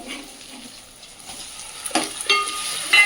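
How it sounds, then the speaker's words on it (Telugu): Tomatoes tipped into a pan of ginger-garlic paste that is already frying, a quiet fry that swells into sharper sizzling crackles near the end as the tomatoes hit the oil, no talk. "ఇదిగోండి ఇప్పుడు టమాటా వేస్తాను దీంట్లో"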